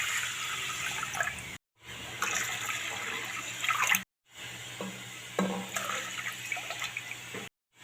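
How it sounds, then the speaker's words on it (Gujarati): Water for khichdi is poured into a cooking pot in three separate splashing pours, each a few seconds long and broken by brief silent gaps. "તો આપણે ત્રણ ગ્લાસ પાણીને નાખી લઈશું"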